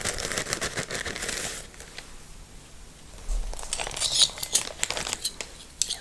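Unbleached paper tea filters crinkled and handled close up, soft rustling and crackling in bursts with a quieter pause in the middle, then busier crinkles.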